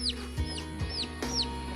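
Chickens and chicks at a rural cattle pen cluck with short repeated calls and high peeps, close by, alone with no talk.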